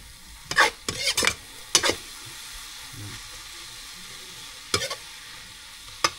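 Food frying in a pan is stirred with a utensil, giving several loud scraping, sizzling bursts early on and another pair near the end, with a quieter sizzle between them.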